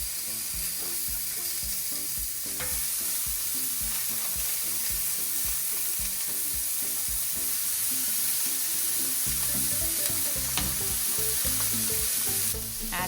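Burger patties sizzle steadily while frying in a pan for a homemade Five Guys-style burger, a loud continuous crackling hiss with small pops throughout and no talking.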